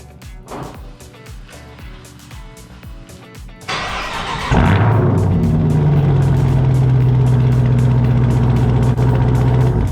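A car engine with mid and rear muffler delete exhaust cranks with rapid ticking, fires up loudly, then settles into a steady, raspy idle close by.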